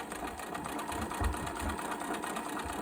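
Sewing machine running a second row of stitches for a French seam on jeans fabric, a steady close mechanical whir with rhythmic needle chatter throughout.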